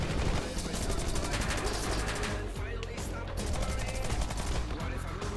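Rapid gunfire from the side-scrolling video game Rocketbirds: Hardboiled Chicken, dense repeated shots over a steady bed of game music and effects, with voices talking over it.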